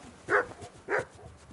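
A dog in Kingdom Come Deliverance 2 barks twice, two short, separate woofs at moderate distance with a brief pause between them and no talk over them.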